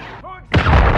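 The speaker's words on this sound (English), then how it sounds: "Friendly cruise missile deployed." A cruise missile strike in Call of Duty Modern Warfare 3, a short descending whine followed by a loud, close explosion that roars and rumbles to the end.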